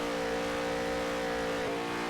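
A stock race car in the NASCAR Heat 3 video game drones with a loud, sustained engine roar at steady high revs as it takes a turn, close and continuous with no talk.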